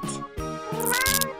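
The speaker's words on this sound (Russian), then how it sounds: "Cat." A cat meows several times in quick succession, close and clear, with a drawn-out rising cry toward the end and no voices over it.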